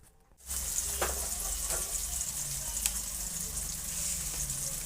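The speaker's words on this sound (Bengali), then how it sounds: "পেঁয়াজটা ভালোভাবে ভাজা হয়ে এসেছে" Chopped onion frying in a pan for a yogurt chicken dish, giving a steady, close sizzling hiss that starts after a brief quiet moment and carries on evenly with a few soft pops.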